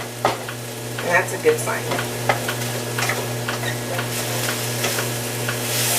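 Thinly sliced pork stir-frying in oil in a pan, a steady close sizzle with scraping and stirring clatter throughout, a person talking briefly over it.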